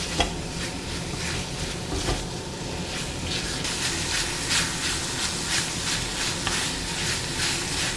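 Prawns for chingri malai curry cook in a hot pan, a steady sizzling hiss running unbroken and close throughout with faint stirring scrapes and no voices.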